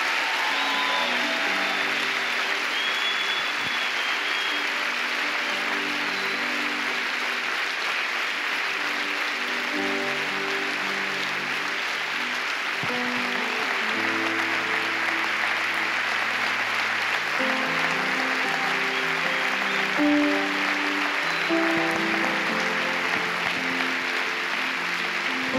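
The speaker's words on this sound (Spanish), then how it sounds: "Aplausos." Sustained applause from a church congregation fills the whole stretch, a dense steady roar of many hands with sustained keyboard chords ringing underneath.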